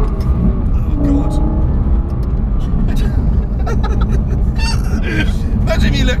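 A Lexus LFA's V10 revs flat out in a loud, continuous roar heard from inside the cabin, with a rising high-pitched edge and voices talking over it.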